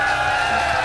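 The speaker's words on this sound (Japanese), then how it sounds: "皆さんもう一度大きな拍手をもらえると嬉しいです" A steady, dense wash of audience applause at a live Vocaloid concert stage in Nicofarre, loud and even throughout the short moment.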